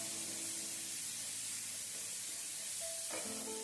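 Ginger and garlic frying in a pan for Beef Kanthari, a steady, close, hissing sizzle with the faint clink of stirring near the end.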